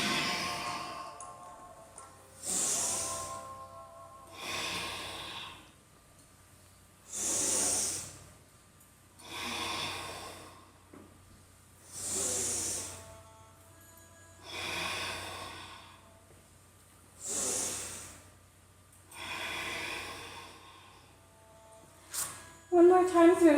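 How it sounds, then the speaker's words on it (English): Slow, deep ujjayi breaths drawn in and out through the nose with a soft hissing rasp, about eight even cycles, close and unhurried, with no talking. "Breathing in and out through your nose, like you're trying to fog up a mirror."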